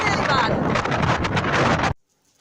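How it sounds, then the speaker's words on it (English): Strong wind buffeting a microphone on a beach at Sutton on Sea in wintry weather, a loud, roaring rumble lasting about two seconds before stopping abruptly into silence. "The wind noise was that bad"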